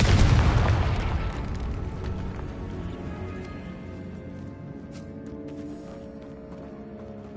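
A Confringo explosive spell goes off in Hogwarts Legacy on PS4 as one loud booming blast, followed by a long rumbling decay with scattered crackles and debris.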